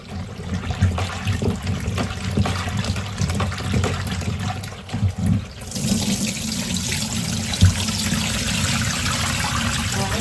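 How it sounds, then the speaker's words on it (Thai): Cherries washed under a running kitchen tap, a steady close stream of water splashing into a sink with small rattles and knocks as the fruit is handled, the flow brightening partway through. "เดี๋ยวจะชิมเชอรี่ให้ดูล้างเชอรี่ก่อน"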